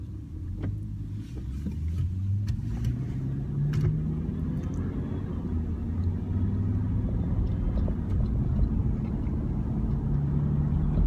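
A car being driven, a steady low engine rumble and road noise heard from inside the cabin, continuous and even, with a few faint clicks on top.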